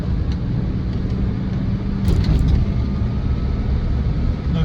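Land Rover Defender 90 TDCi XS station wagon diesel engine running while driving, a steady low rumble with road noise and a brief brighter rattle midway, continuous and fairly loud, with no talking.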